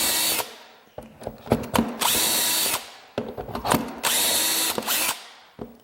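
A power drill bores through a steel bushing on a doweling jig into cabinet wood, two loud whining bursts each ending in rough grinding as the bit cuts, separated by short clicks and handling of the jig, close up.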